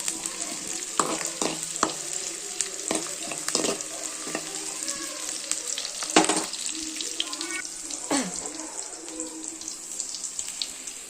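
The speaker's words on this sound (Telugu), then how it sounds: "దీన్ని బాగా కలుపుకోవాలి." A spoon stirs beans cooking in a pan for curry, giving irregular close scraping knocks over a soft sizzle.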